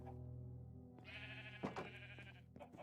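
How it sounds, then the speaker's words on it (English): A Minecraft sheep bleats twice in quick succession, clear and fairly close, with a low steady hum underneath and no talking. "Oh my god, sheep."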